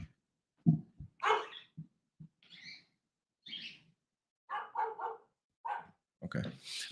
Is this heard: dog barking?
yes